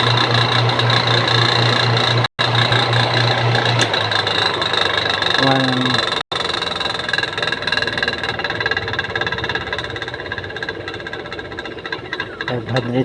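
A 500-watt washing machine motor refitted as a dryer motor runs with a steady loud hum and rattling vibration, cutting out briefly twice before spinning on, with someone talking over it.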